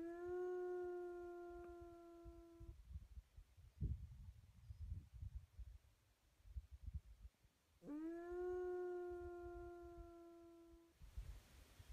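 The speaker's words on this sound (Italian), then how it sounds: "È proprio l'ululato di un lupo." A lone wolf howls near Lake Lacina, two long sustained howls with rising starts, separated by rustling and low handling noise, fairly faint and distant with no talk.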